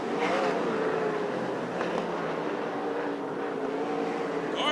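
USAC/CRA sprint cars race off turn 4 at Hanford, California, their engines a steady loud roar with race-crowd ambience and no clear speech.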